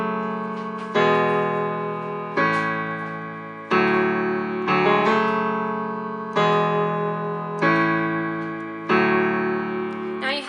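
Piano chords struck in the low register on a regular piano setting, about eight full chords at a steady, unhurried pace, each ringing out and fading before the next, with no voices.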